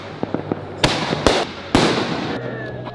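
Fireworks explode at a Fourth of July show: a few small crackling pops, then three loud, close booms about half a second apart, each trailing off into a hissing rumble.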